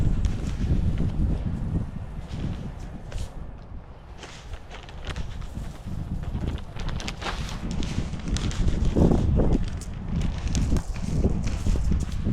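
Gusty wind blowing through a garden of roses and hydrangeas, with rumbling buffets of air against the microphone and rustling foliage, loud and continuous with surges over several seconds.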